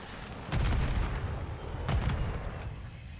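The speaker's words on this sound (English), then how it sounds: "Tossing Semtex." Semtex grenade detonations in Modern Warfare 3, two heavy booming blasts a little over a second apart, heard over continuous rumbling game ambience.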